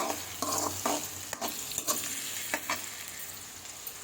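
Chopped capsicum and fresh ginger frying in a pan, a soft, steady sizzle at moderate level broken by several light clicks and scrapes of stirring, with no talking.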